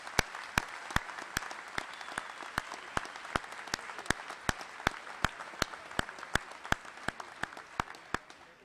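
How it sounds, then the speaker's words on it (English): Sparse, evenly spaced claps ring out over a faint background, a thin, quiet round of applause from a small group. "how about a well-rounded round of applause for the senior era?"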